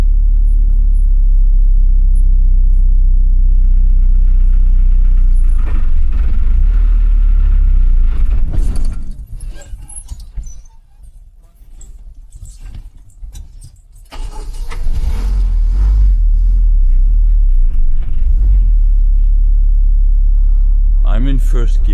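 An old diesel bus engine rumbles loudly and steadily while driving, with a deep low drone that eases off briefly mid-way before building again; people talk over the engine noise.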